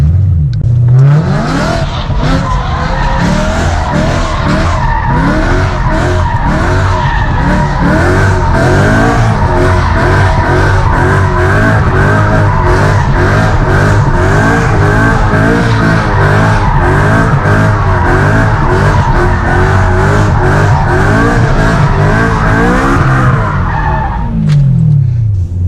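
A BMW M3 drifts in a tight circle around a parked Abarth on badly worn, low-grip tires, engine roaring continuously and tires squealing loudly and steadily for the whole stretch, close and without letup.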